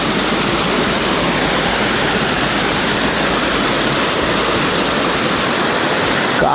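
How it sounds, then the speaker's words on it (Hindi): Kawaldhara waterfall in the Maikal hills, a tall fall of about thirty feet, gives a loud, continuous roar of rushing water that fills the scene without a break. "कमल धरा वाटरफॉल।"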